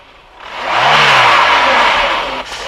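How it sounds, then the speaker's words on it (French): A 1990 Renault 19 16S with a 1.7-litre 16-valve four-cylinder engine revs up, the note rising and holding strong before dropping off, loud and close with no talking. "Le moteur est intéressant, mais c'est un 16 soupapes, donc il a beaucoup de chevaux en haut"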